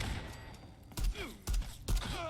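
Saiga 12K shotgun firing Dragon's Breath incendiary rounds in Fallout 4, three heavy booming shots spaced about half a second apart, loud and close over a low game ambience.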